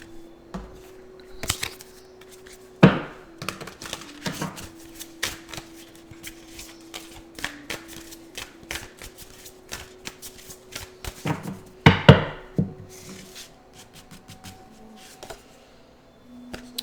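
A tarot card deck is shuffled close by in repeated riffling and snapping bursts, and a few louder slaps of cards land between the softer shuffles.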